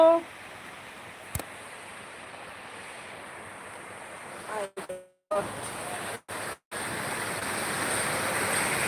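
Steady rain falls in a continuous broadband rush, with a few brief cut-outs and a faint voice-like murmur underneath.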